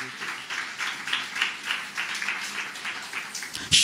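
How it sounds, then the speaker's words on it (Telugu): A church congregation claps loudly together during a fasting-festival sermon, a dense, steady wash of hand claps that swells and fades in waves for several seconds before a sharper burst at the end. "గట్టిగా చప్పట్లు కొట్టు."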